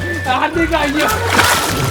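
Water sloshes and splashes loudly as someone moves through a swimming pool, heard close by under constant overlapping talk.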